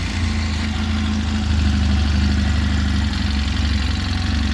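An engine idles steadily after being started, a loud, even low rumble with constant vibration and no voices, from a car with a cam sensor fault.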